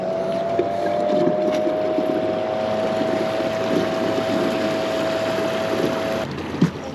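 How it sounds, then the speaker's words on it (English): A boat motor runs during a test on the water, giving a steady, even hum with a high whine for about six seconds before cutting off, close and alone. "Let's get this motor going."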